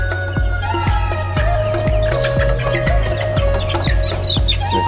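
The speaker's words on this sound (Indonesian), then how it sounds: "kalau ayam-ayam kita ini yang udah usianya Ini besar, usia 2 bulan nih." Two-month-old ornamental chickens at a breeding farm cluck and call continuously, many birds close by with repeated short clucks over a steady low hum, no talking.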